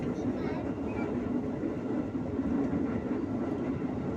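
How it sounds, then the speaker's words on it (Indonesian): A KRL Commuter Line electric train, JR 205 series, rolls into a station with a continuous loud rumble and rail noise, heard from the cab. "Kereta dipersiapkan masuk di jalur 1."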